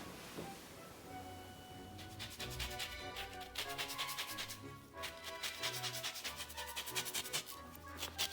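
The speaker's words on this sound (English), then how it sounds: "you can grate some orange zest on the top" Orange zest is grated onto a finished asparagus risotto, a quiet run of quick rhythmic rasping strokes that starts about two seconds in and continues in short bursts with brief pauses.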